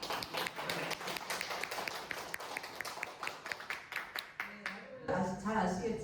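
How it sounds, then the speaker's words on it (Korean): Applause welcoming National Assembly member Seo Mi-hwa at a disability policy meeting, a dense run of hand claps from an indoor crowd lasting several seconds before a voice takes over at the end. "다시 한번 우리 서미화 국회의원님 큰 박수로 좀 환영."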